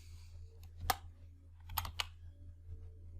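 A few sparse keystrokes click on a computer keyboard while a spreadsheet formula is entered, faint and isolated taps against a quiet low hum.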